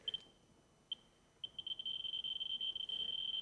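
An old radium watch with glowing hands sets off a radiation detector, which answers with sharp, high electronic pings. They start sparse and irregular, then quicken into a rapid, nearly continuous stream of chirps.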